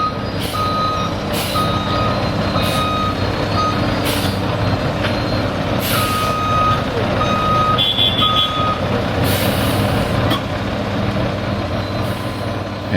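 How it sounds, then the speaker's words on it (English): Repeated backup beeps from a truck reversing under an excavator bucket ring out over a heavy idling engine, with occasional hisses and clanks nearby, at a train wreck debris cleanup. "A truck backs up under the bucket of an excavator."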